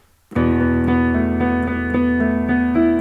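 A piano plays even straight triplets with the sustain pedal held down, so the notes ring together in a loud, close, continuous wash of repeated chords with no speech.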